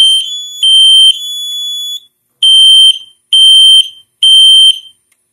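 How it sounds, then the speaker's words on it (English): A Notifier NFS-320SYS fire alarm system's smoke detector sounds loudly nearby in pre-alarm during a test: a few long shrill tones, then three evenly spaced piercing beeps separated by silence. "Oh, it went to pre-alarm."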